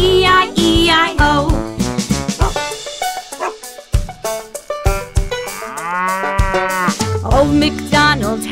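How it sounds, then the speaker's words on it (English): A cow's moo rendered as a sung part of the nursery song Old MacDonald Had a Farm, loud, repeated moo sounds in rhythm over bright children's music with instruments throughout. "With a moo moo here and a moo moo there"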